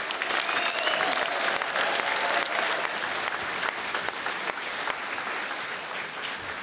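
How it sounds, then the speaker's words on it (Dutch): A large event crowd, gathered for a motor racing interview with a Formula 1 driver and a businessman, gives loud, sustained applause that fills the space evenly, with a few scattered cheers under the dense clapping. "Geef een groot applaus."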